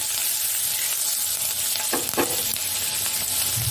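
Chopped garlic and green chilies fry in a pan for Indian-style masala pasta, a steady close sizzle with a couple of brief stirring clatters partway through; no one speaks.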